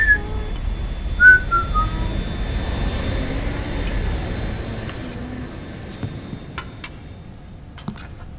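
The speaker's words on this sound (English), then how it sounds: "I found myself whistling that tune." A person whistles a short tune during Metal Gear Solid 4: Guns of the Patriots gameplay, with a few clear, rising whistled notes near the start over a steady low game background that fades toward the end.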